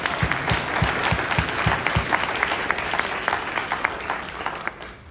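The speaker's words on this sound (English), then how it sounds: "Let's start off by giving everyone here a big round of applause for making it here on this fine Sunday morning." A crowd gives sustained clapping throughout at a Sunday morning ceremony of the Seattle International Film Festival, steady and dense, with a few sharper individual claps standing out near the front.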